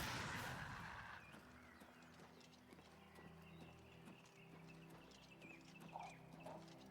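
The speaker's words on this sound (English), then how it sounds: "There's my trusty steed." Horse hooves clip-clop steadily in the Oblivion Remastered video game, a continuous near trotting rhythm over a low ambient game music bed, with no talking.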